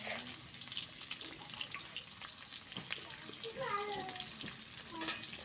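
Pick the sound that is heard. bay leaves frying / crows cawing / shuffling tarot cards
bay leaves frying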